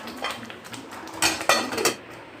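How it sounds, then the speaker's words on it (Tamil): A lid is set back onto a pot of simmering tomato thokku after a stir, giving a few close metallic clinks and scrapes over about two seconds, with no voices. "கலந்து விட்டு மறுபடியும் மூடி போட்டு வச்சிடலாம்"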